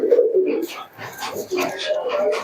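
Pigeons in a shop at night coo up close, low throaty calls repeating in soft rolling bursts, with other pigeons calling alongside.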